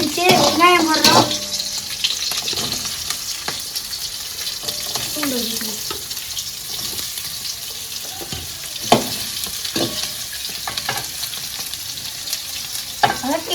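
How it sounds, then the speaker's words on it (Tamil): Green chillies and onions sizzle steadily in a hot oiled pan while a prawn gravy is being cooked, with stirring scrapes and clatters over the frying and a voice speaking briefly at the start. "பச்சை மிளகா வதங்கிடுச்சு. வெங்காயம் போடுறோம்."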